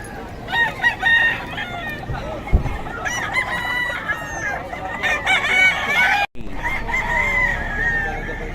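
At a bird market in Bocaue, several nearby chickens cluck and squawk steadily, with rooster crows rising over the flock. A faint murmur of voices sits in the background.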